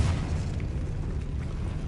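Spell blast from the video game Hogwarts Legacy, a continuous booming magical burst with a dense low rumble holding steady and loud throughout, no speech over it.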